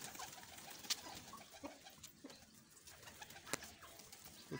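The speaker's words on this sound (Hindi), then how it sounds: "दाना जो है ना हम खुडे के अंदर डाल देते हैं दोस्तों, कबूतरों को बंद कर देते हैं इधर।" Pigeons cooing faintly at a coop, soft low calls scattered over a steady outdoor background hiss, with a few sharper wing or perch noises.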